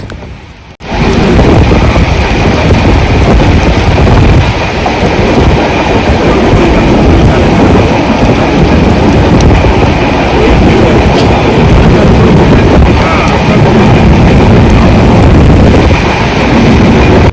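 Janshatabdi Express running fast through heavy monsoon rain, heard from a window seat: a loud, continuous rumble of wheels and rushing rain and wind that holds steady after a brief quiet start.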